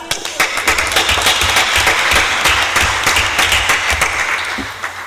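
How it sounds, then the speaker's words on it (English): A large audience at a stakeholder forum opening ceremony applauds loudly in a thick, steady wash of many hands, close and sustained, then tapers slightly toward the end. "Let's applaud."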